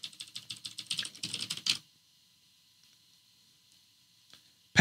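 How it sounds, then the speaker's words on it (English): Computer keyboard typing: a quick run of about a dozen close, crisp key clicks over under two seconds, then near silence with a faint hum, ending in a sudden thump. "And if I can just type correctly."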